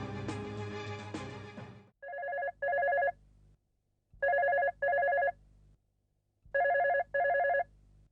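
A telephone bell rings in three loud, close double bursts separated by short pauses, following a stretch of music at the start, with no talk over it.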